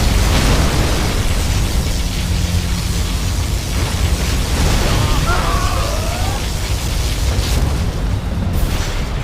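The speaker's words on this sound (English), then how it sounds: "Particle cannon activated." In the real-time strategy game Command & Conquer Generals Zero Hour, a particle cannon beam strikes and explodes with a loud, continuous roaring blast. The rumble is dense and sustained, and game voice lines play over it.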